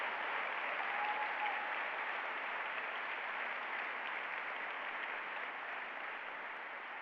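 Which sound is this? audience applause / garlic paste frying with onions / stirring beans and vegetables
audience applause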